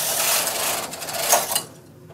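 The carriage of a knitting machine sweeps across a row of stitches on a Christmas stocking, giving a close rasping, clattering slide that fades out near the end, with no voices.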